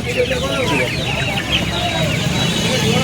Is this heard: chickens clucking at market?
yes